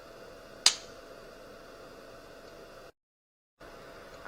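A single sharp clapperboard clap before a film take, scene 6, take 3, rings out once against a steady background hiss and then fades quickly, followed by a brief dropout to silence.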